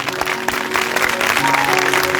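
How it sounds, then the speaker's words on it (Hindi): A congregation at a revival meeting in Chichawatni bursts into loud applause, dense close clapping that swells slightly toward the end. "बजाइए उसके लिए तालियां"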